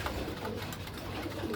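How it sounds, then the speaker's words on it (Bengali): Caged pigeons cooing softly while pecking at grit, low rounded coos repeating close by against a faint background. "কী পরিমাণে গ্রিট খায় এই কবুতরগুলো"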